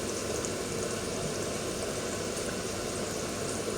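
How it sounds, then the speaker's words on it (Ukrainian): Steady, dense sizzling of carrots frying in a hot pan over moderate gas heat, continuous and fairly loud with no talking. "Хай тепер із морквочкою посмажиться трішечки"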